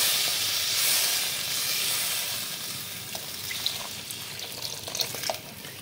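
A mustard-based fish curry broth with taro bubbles and hisses steadily in a pan, with small pops and light stirring clicks growing more frequent toward the end.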